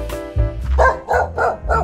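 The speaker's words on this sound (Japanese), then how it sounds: "山小屋では甲斐犬がお出迎えしてくれますよ。" A Kai Ken dog greets visitors at a mountain hut with a quick run of loud, close barks, five or so sharp woofs in a steady rhythm.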